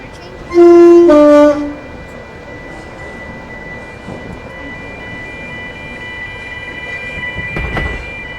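A Class 456 train horn in the video game Project Transit blares loudly for about a second as it approaches a platform, then a steady rumbling hum of the train fills the rest, with a faint rise near the end.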